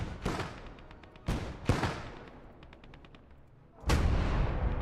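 Mortar and gun fire in the Gates of Hell Finland campaign: a few heavy blasts with long decaying rumbles, plus a short burst of rapid shots in between.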